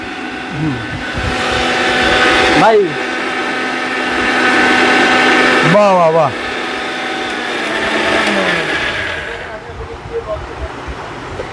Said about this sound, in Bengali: আপনি ব্লেন্ডারে ওকে ঠিক আছে চলেন দেখি স্মুথ সাউন্ড